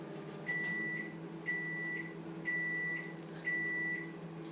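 A microwave oven hums steadily while baking a chocolate cake, then gives four evenly spaced, clear beeps about a second apart as the timer finishes.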